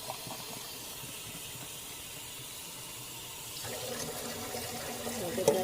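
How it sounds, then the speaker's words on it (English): Water runs steadily into a pan with a low hissing wash that grows slightly louder and fuller toward the end, close and continuous, no talking. "I'm gonna add just a little water while stirring briskly"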